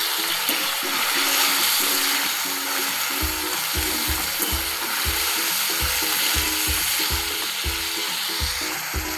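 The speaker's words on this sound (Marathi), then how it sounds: "मी इथे असं छान असं मिक्स करून घेते." Tomato chutney sizzles in a pan as it is stirred; a soft hiss runs throughout, and then rapid, regular scraping strokes of a utensil against the pan begin, close and steady.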